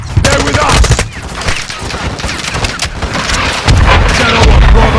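Call of Duty Modern Warfare 2 battle on PS5: dense rapid gunfire with rattling bursts and deep booming explosions, loud and close, continuous through the whole stretch with heavier blasts near the end.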